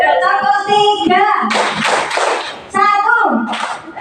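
Hand claps in a counted classroom clapping game, a few sharp bursts of clapping alternating with a voice counting and talking, close and fairly loud.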